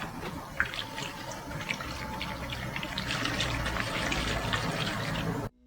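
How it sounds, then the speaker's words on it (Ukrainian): Continuous watery sloshing and gurgling of electrolyte moving inside a shaken car battery, steady and close, ending abruptly. "Ви маєте почути характерне хлюпання рідини всередині."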